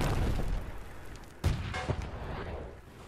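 Artillery fire and explosions in the Call to Arms: Gates of Hell war game, with one sharp boom followed by a couple of lesser blasts and a rumbling low wash of battle noise.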